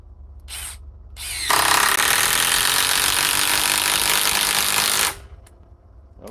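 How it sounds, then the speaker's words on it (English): A DeWalt Atomic DCF921 compact cordless impact wrench runs in one close, loud burst of about four seconds, its rapid hammering rattle starting abruptly after a couple of short clicks and cutting off cleanly. "This is probably still the top compact impact wrench in the world."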